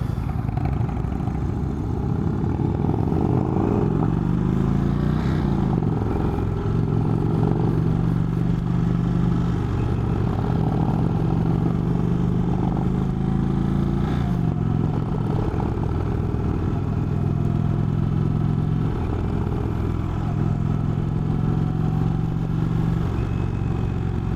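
An Indian Chief Vintage cruiser motorcycle engine rumbles steadily throughout, with occasional clunks and clatter from bumps in the road, loud and close, no talking.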